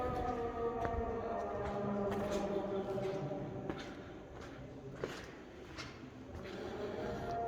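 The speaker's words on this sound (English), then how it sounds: "It's a Christian church, but you can hear the muezzin" A muezzin's call from a mosque outside, heard from inside the Christian Church of the Holy Sepulchre as a sustained, wavering chanted tone carrying faintly over crowd murmur and footsteps in a reverberant stone interior.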